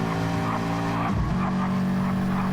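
Race cars in a league racing video game, one of them a Porsche, drone with steady engine tones, broken midway by a brief tyre skid and scrape as cars make contact.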